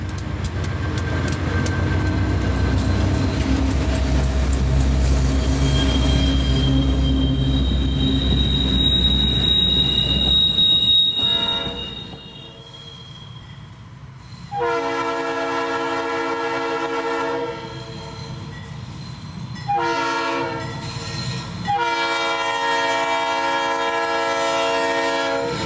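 A southbound Conrail freight train rumbles past at milepost T4 on the Monongahela Railway, its wheels squealing and cars clattering loudly, then the horn blares in long, repeated chords that drop out briefly between blasts.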